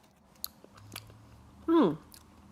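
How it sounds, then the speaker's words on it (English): A small, ripe cucamelon, a tiny cucumber that looks like a mini watermelon, bitten in half with a single short, loud crunch near the mouth after a few faint clicks. "I'm going to bite it in half."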